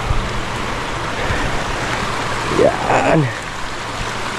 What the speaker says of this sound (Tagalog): Yan ang ilog na nga pala.